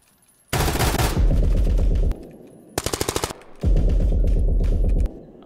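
Automatic gunfire in a tactical shooter video game: three loud, close bursts of rapid fire separated by short pauses, the middle burst shorter with distinctly spaced shots.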